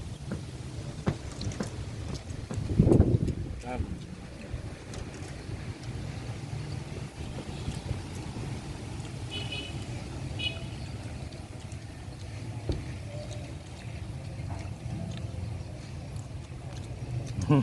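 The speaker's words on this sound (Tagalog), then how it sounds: "Mahangin dito. Hangin." Wind gusting across a rooftop in the Philippines, making a steady low rumble with microphone buffeting, louder in a gust early on, and faint voices in the background.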